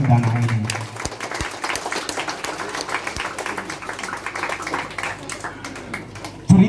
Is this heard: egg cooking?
no